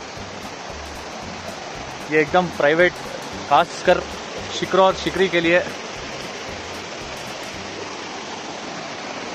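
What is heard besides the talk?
waterfall in Kodaikanal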